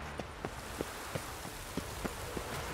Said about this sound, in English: Rain makes this city even more dreary.